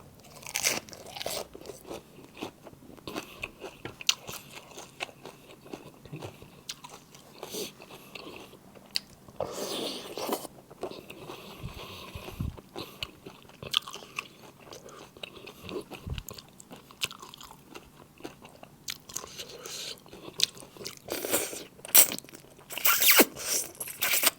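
Crunchy food bitten and chewed close up, with repeated sharp crunches and rustling bites spread across the whole stretch, loud and dry with no talking.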